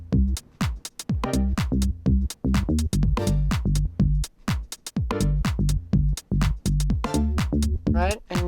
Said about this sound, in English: the gate is gonna mute the chords and it's gonna open only when the rim shot hits